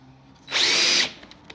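Cordless DeWalt drill spinning up in a woodshop, one steady high-pitched whir lasting about half a second, close and loud, then cutting off.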